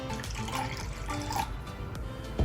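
Liquid tank treatment pours steadily into an RV kitchen sink drain feeding the gray tank, a continuous close trickle and splash of liquid lasting a couple of seconds.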